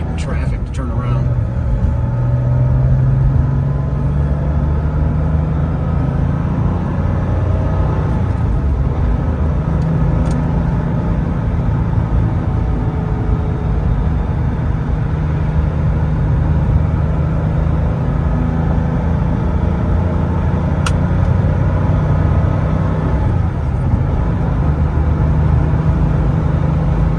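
A 55k-mile 1989 Porsche 911 Carrera coupe driving on the road, its engine a steady low drone with tire and road rumble under near-constant talk, plus a few brief clicks along the way.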